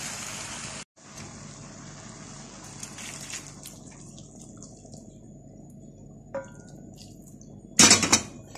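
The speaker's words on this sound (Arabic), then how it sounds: "هبتدي ان انا افضي الميه السخنه، ميه تكون مغليه." Boiling water from a pot on the stove is poured over dry spaghetti in a home kitchen, making a steady hissing splash with a brief metallic clatter near the end.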